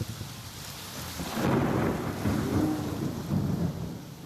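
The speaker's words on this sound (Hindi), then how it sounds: "बिजली भी कड़क है" A deep, rolling rumble of thunder swells and lingers over the constant roar of heavy rain, with lightning striking.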